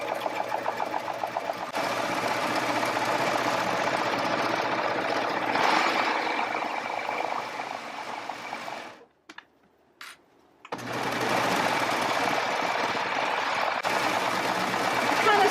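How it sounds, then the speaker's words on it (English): A serger stitches fabric for round-table placemats in a steady, loud mechanical whir that runs almost without pause, stopping briefly near the middle before resuming. "We're going to advance our fabric right up to the needle. And stitch."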